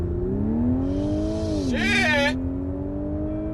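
Subaru WRX STI engine revs hard under acceleration, a rising drone climbing steadily then a brief shift dip before pulling again, with a short shouted exclamation over it.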